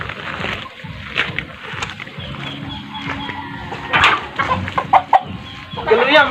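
Chickens cluck in short bursts across the clip, fairly close, with a busy background of outdoor noise and occasional voices.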